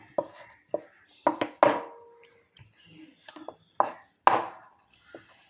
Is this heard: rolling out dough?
yes